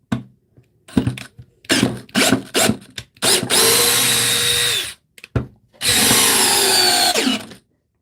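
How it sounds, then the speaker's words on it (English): Cheap, short cordless drill driving into wood: several quick trigger bursts, then two sustained loud whirring runs as the bit sinks in, close and alone with no talk. "What's crazy about this drill is that it's so short."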